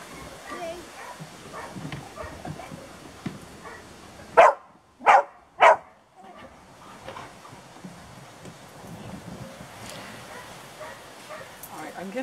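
A dog gives three sharp, loud barks in quick succession amid softer whimpers and yips, with a person talking before and after.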